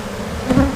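Honeybees coming out onto hive frames make a brief, close buzzing hum that swells for a moment amid a low background drone.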